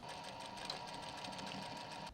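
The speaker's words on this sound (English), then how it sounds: "we're just going to sew that together with a little kind of box" An industrial sewing machine stitches a box pattern through a rucksack strap looped around D-rings, running steadily at close range for about two seconds with no talk.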